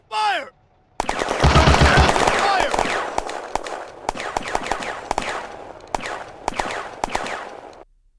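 Bursts of automatic gunfire and single shots ring out in a video game firefight, loud and close, with sharp cracks spaced through the clip after a short opening tone.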